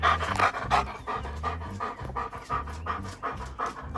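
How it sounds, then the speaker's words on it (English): Dogs pant rapidly and close up, a steady rhythmic huffing that continues throughout with no talking. "Freaking dogs. Everywhere."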